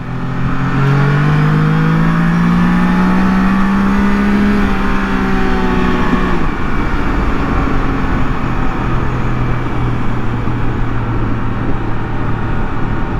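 A 2022 Can-Am Spyder RT three-wheeler accelerating hard, its engine climbing loudly in pitch through gears with brief dips at the shifts, then holding a strong roar at speed.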